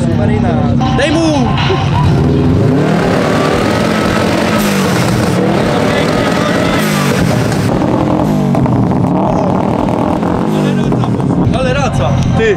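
A tuned Subaru with a forged 2.2-litre engine of about 350 horsepower revs hard, rising and falling engine roar with loud sweeps and pops, while people talk and shout nearby.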